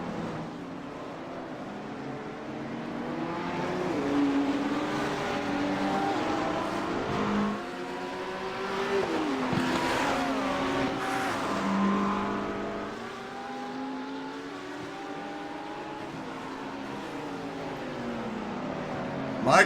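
GT3 race cars, among them a BMW, race on a wet circuit, their engines rising and falling through shifting gears as several pass close by, with the swell and fade of passing cars and commentary speech underneath.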